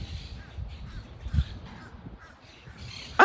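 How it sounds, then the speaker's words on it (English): A crow caws outdoors among other birds, with scattered calls over a soft background and a louder, close caw at the very end. "Birds, you heard that?"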